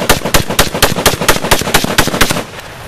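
Rapid automatic gunfire in gangster style rattles off in a steady burst of about a dozen sharp, loud shots, then stops abruptly near the end.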